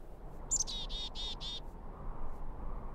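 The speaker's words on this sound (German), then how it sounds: "Und wieso pfeift er wie ein Vogel?" A character in the Syberia 2 video game whistles like a bird, four short quick warbling chirps in a row, clear and fairly close over a low steady background rumble, then fading to ambience.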